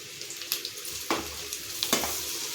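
Onion, curry leaves and turmeric sautéing in a pan for egg masala gravy, a soft steady sizzle broken by scraping stirs and light clinks of a spatula.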